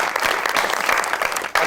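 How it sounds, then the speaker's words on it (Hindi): A TV talk show studio audience applauding steadily, a dense wash of clapping that fills the whole moment, with a brief dip near the end before it swells again. "बहुत सारी तालियों में जी"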